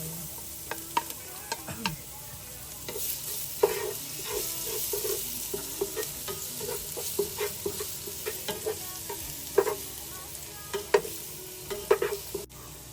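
Garlic sizzles in hot oil in a pan for pork dinuguan, a steady close frying hiss broken by frequent sharp scraping and stirring clicks of a utensil against the pan.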